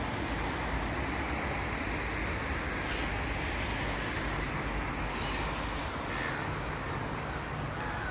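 Seagulls call outdoors over a steady, noisy wind and water wash; a few sharp bird cries cut through now and then, fairly distant and partly masked by the background roar.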